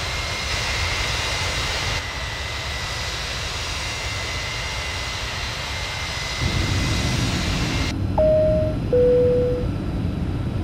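Simulated Boeing 737-500 engines drone through a descent in Flight Simulator 2004, a steady jet roar that shifts in tone partway through, with two short chime tones near the end.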